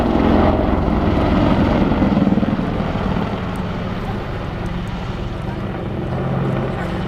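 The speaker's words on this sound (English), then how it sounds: "you see the aircraft conducting a 360-degree wing over as it goes to set up itself once again" Army Air Corps Apache attack helicopter flying a wingover at the 2012 Cosford Airshow, its rotor and engine making a steady loud roar, broad and continuous with a slight fade midway, no talk heard.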